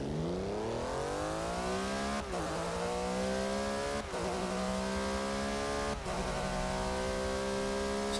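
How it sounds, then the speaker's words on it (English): A Porsche race car engine in Forza Motorsport 6 revs loud and close, climbing steadily in pitch through each gear with three brief dips at the shifts, sustained throughout with no voices. "Let's see what this Porsche can do."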